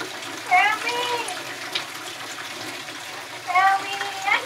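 Water sprays from a busted pipe upstairs in a continuous rushing hiss, with voices speaking or crying out over it at intervals.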